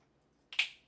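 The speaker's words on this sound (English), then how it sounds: "I'm gonna do the finger snap and point" A single crisp finger snap cracks once near the microphone during a tabletop Dungeons & Dragons session, otherwise quiet.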